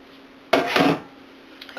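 Cornbread batter being stirred in a bowl: one short, close scraping swish lasting about half a second, then near quiet.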